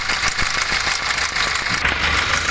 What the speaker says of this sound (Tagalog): So kung maririnig nyo, lumalagat siya. Napakalakas.